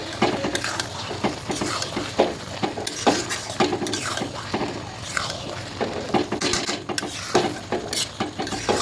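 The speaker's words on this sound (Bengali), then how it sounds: "এবার এই মটর কড়াই দিয়ে ভালো করে কষে নেবে বন্ধুরা।" Dried peas for ghugni are stirred and sautéed in a pan, with repeated scraping and clattering strokes of a spoon against the metal over a soft background sizzle, close and fairly loud.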